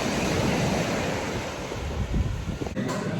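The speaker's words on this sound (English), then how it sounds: "And now we're finally at the beach." Surf washing onto a beach in Grenada, a steady broadband roar of breaking waves with some wind buffeting the microphone, fairly loud and continuous throughout, no voices.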